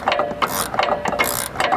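Rapid ratcheting clicks from a socket wrench with a 6mm socket head fitting inner fender liner fasteners on a Jeep JK after an engine swap, in repeated close bursts of clicking.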